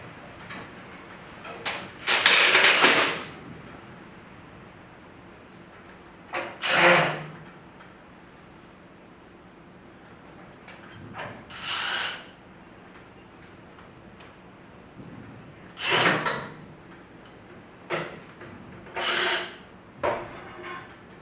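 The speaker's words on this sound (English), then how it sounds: "put our screws back in" Screws being driven back into a gas water heater during replacement, heard as several short scraping, rasping bursts spaced a few seconds apart with quiet gaps between, close and moderately loud.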